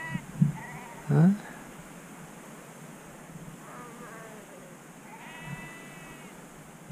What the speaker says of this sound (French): on se fait réveiller par les moutons le matin